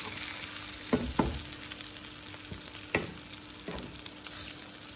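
Eggplant slices fry steadily in hot oil in a pan, a constant close sizzle with a few sharp clatters and scrapes as the pieces are turned over.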